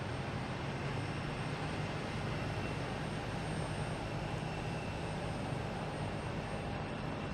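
Steady broadband jet engine roar from an airliner taxiing on the ground at Boston Logan Airport, a continuous even rumble and whine held at a constant level throughout, distant rather than close, with no voices.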